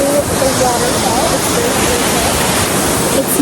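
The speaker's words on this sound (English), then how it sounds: "So guys, we finally made it to the waterfall." A mountain waterfall pours over rocks in a loud, steady, broadband rush that fills the scene without a break, with no clear talk above it.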